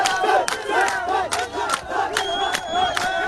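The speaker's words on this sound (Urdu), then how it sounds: "یہ لوگ احتجاج کر رہے ہیں توہین کے خلاف، اور ساتھ ہی وہاں پر وہ تالیاں بجا بجا کر ناچنا بھی شروع ہو گئے" A protest crowd blocking a highway claps and shouts together, loud and close. Dense rhythmic hand claps run under massed chanting voices throughout.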